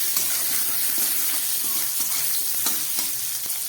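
Chopped ginger sizzling loudly in a hot pan for momo filling, a dense continuous frying hiss with small crackles and the occasional scrape of stirring.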